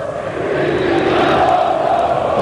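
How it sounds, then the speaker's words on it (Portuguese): Flamengo supporters in a packed stadium chant a taunt at rival Vasco fans during the 2006 Copa do Brasil final, a loud, sustained mass of voices filling the whole stretch. "A provocação da torcida rubro-negra para a torcida do Vasco."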